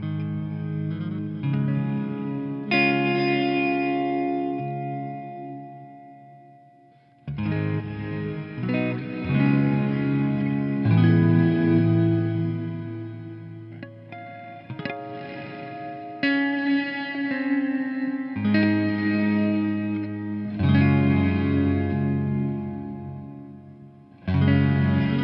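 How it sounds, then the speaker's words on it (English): A guitar played through an EarthQuaker Devices Afterneath V3 reverb pedal rings out in chords and notes with lush, washy reverb tails. Several phrases are separated by brief pauses, and the guitar plays alone with no talking. "So as this is increased clockwise, you get a little bit brighter of a reverb"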